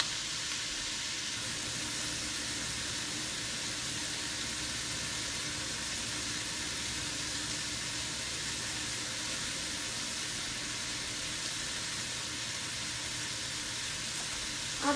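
Sausage browning in a pan for a breakfast casserole gives a steady, even sizzle that runs unbroken and fairly soft the whole way through, with no voices over it.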